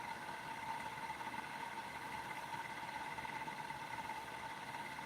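A homemade pulse motor spins at roughly 1400 to 1600 RPM, giving a steady, even whirring hum with a faint pulsing texture, quiet and unbroken throughout with no talking.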